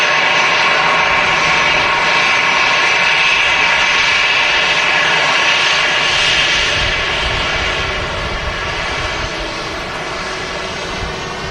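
An EasyJet airliner arriving from Palma at Manchester Airport, its engines a steady, loud roar that fills the whole stretch and eases slightly toward the end, with no voices.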